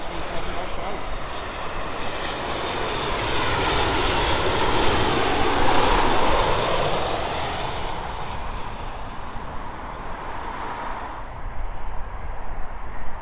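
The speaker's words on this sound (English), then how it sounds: "A330 Delta." Engines of a Delta Airbus A330 jet airliner roar loud and steady, swelling to a peak midway and easing off, with a voice talking over the noise.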